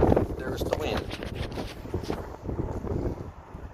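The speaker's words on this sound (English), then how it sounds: "Oh, there's the wind." Outdoors on a disc golf course, wind gusts buffet the microphone in a steady low rumble that swells and eases across the whole stretch, loud and close with no clear talk over it.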